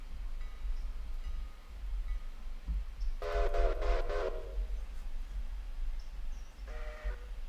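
A passenger train rolls through Whittier in Railroader, rumbling low and steady, with a loud multi-chime horn blast in the middle and a shorter toot near the end.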